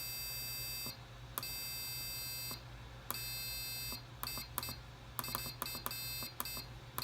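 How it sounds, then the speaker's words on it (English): A piezo buzzer wired to an Arduino push button beeps over a steady electrical hum, first in long held tones and then in a quick run of short, irregular bleeps. "When I press the button here, it generates the sounds on the buzzer."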